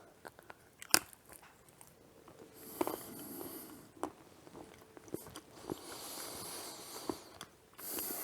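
Crunchy chocolate candy with almonds, coconut and marshmallow being bitten and chewed close up, with irregular crisp crunches and softer wet chewing sounds over about eight seconds, no talking.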